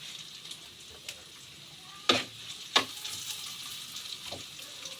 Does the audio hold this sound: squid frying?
yes